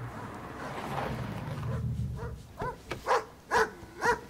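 A dog barks several times in quick succession, sharp and fairly close, after a stretch of low indistinct background noise, in the film Knives Out (2019).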